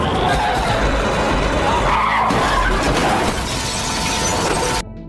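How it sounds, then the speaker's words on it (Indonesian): A car skids and crashes during a film car chase with gunfire. Loud, dense tire screeching runs with a sharp crunch and shattering of glass and metal, all continuous and close until a sudden cut near the end. "Sehingga, mobil yang dikendarai oleh Orin harus mengalami tabrakan."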